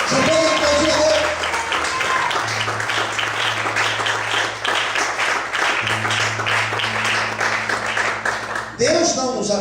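Sustained, loud applause from a church congregation fills nearly the whole stretch, dense and even, over a low held musical note, before cutting off near the end as a voice begins.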